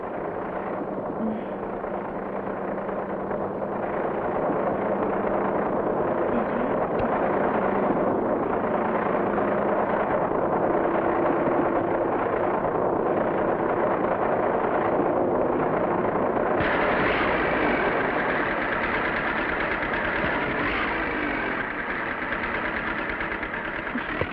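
Tractor engine running steadily, a dense chugging rumble that stays loud and constant for the whole stretch, its tone shifting slightly near the end.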